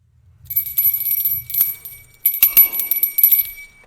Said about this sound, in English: Every time a bell rings, we give our Top 5.